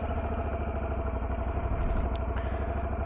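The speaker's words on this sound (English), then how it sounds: "So once again, DCT, start the bike" Honda NT1100 motorcycle with DCT, its engine running at a steady idle close by, a low throbbing rumble with light mechanical clatter and no talk over it.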